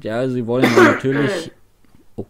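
A person sneezes loudly and close at hand right after a short stretch of German speech, followed by a soft breath and a brief vocal sound.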